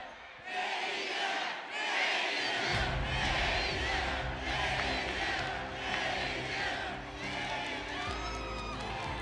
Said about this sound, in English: the crowd chanting FaZe's name.